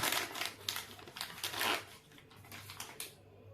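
Crinkly plastic packaging of an original Nestlé Oreo ice cream is torn and opened, with several close, crackling rustles and crumpling bursts.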